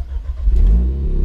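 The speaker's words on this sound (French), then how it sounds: "on est obligé de démarrer la voiture" An Alpine A110 limited-edition car engine starts up close by. It is a brief low rumble that swells quickly into a throaty rev, with no talking.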